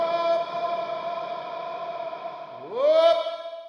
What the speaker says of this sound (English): we've got a plate reverb, so simplifies version of a classic 70s plate reverb